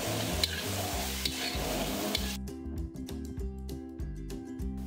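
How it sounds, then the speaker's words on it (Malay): Fresh milk being stirred into food frying in a pan, with a steady sizzle under repeated rhythmic scraping strokes of the spoon throughout, close and moderately loud, no talking. "Kemudian kita kacau sampai kering lah susu tu."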